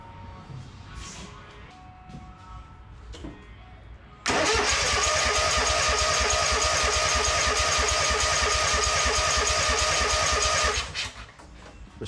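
A Wright Stander lawn mower engine cranks over loudly and steadily for several seconds, a rapid mechanical churning that cuts in abruptly and stops, with quieter shop noise before and after.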